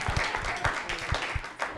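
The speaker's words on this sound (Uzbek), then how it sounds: "Qarsaklar." A studio audience claps in a loose, uneven patter, individual hand strikes standing out over a soft background murmur, moderately close and fairly brief.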